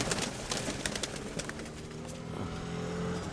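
Pigeons coo softly at a fair in a low, repeated murmur, faint beneath a busy background of clicks and other noise.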